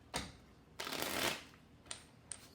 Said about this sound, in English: We're going to shuffle 3 more times.